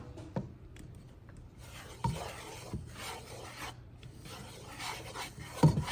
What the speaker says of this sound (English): Keep stirring this for a little while